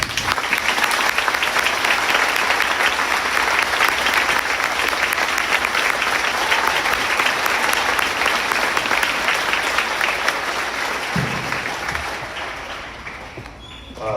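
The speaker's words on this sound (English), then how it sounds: "I think we should give the middle school another round of applause" Sustained, loud applause from a large crowd at a school band concert for the middle school band, a thick even roar of clapping that fades near the end.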